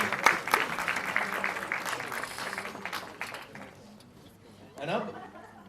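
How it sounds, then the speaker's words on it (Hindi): Audience applause at the Dhadak 2 trailer launch, a fading burst of clapping that thins out midway, followed by a short swell of crowd noise and murmuring voices. "शाजिया इकबाल जी के लिए एक बार जोरदार तालियां"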